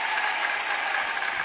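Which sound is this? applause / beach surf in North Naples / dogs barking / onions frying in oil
applause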